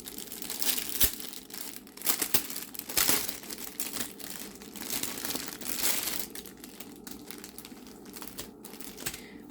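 Plastic packaging from a Halloween-themed diamond painting kit crinkles and rustles continuously at close range while it is opened, with brief sharper crackles.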